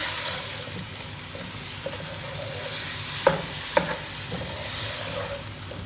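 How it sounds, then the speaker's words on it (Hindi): Chopped ginger and garlic being fried and stirred with mutton in a pan for bhuna gosht, a steady soft sizzle with a few sharp spoon clinks against the pan and no talking. "और अगेन 1 से 2 मिनट पहले हम इसको अच्छी तरह से इसके साथ भूनेंगे"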